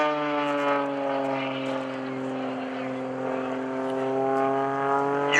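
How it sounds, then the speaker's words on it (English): A 300-plus horsepower aerobatic propeller airplane at an airshow. Its steady, harmonic-rich engine and prop drone holds at moderate distance with a slight rise and fall as it passes. "That's the propeller tips as they're going supersonic."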